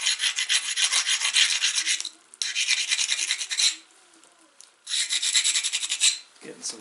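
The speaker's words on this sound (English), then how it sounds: "I think I'm going to grind both sides." A knapped flint is ground on both faces, giving a loud, steady rasping scrape in three long bursts separated by short pauses.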